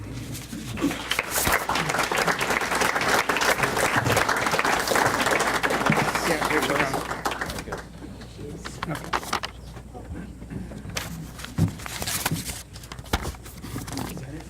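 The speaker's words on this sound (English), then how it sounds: "we can get a picture and a final round of applause" An audience at a volunteer appreciation celebration applauds volunteer Cheryl, with dense clapping for about seven seconds that then thins into scattered claps and murmuring voices.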